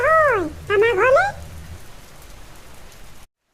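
Steady hiss of heavy rain during a flood in a village, with two loud wavering calls near the start before the rain continues alone and fades out.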